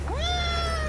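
A domestic cat gives one short rising-then-level meow, close and clear, over a steady low hum.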